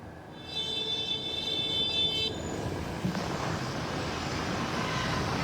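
An online ojek motorcycle rider sounds a horn in traffic beside the Sudirman–Thamrin bike lane in Jakarta: a steady, high horn tone lasting about two seconds over a constant roadway din, which continues after the horn stops.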